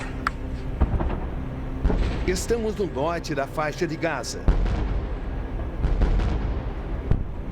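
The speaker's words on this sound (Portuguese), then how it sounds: "Logo as explosões recomeçam." Explosions rumble in the northern Gaza Strip, low heavy booms rolling beneath a voice as he reports, with a deep thump midway and a continuing distant roar.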